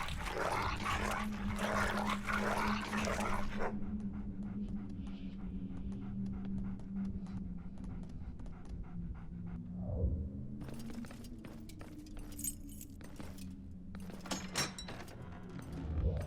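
A dog pants in a video game, with rapid rough breaths that run steadily over a low droning hum. Faint clatters and scrapes come and go in the background.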